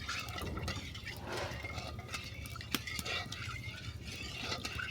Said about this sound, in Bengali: এটা নেড়ে চেড়ে ঘন একটা শিরা বানিয়ে নিচ্ছি।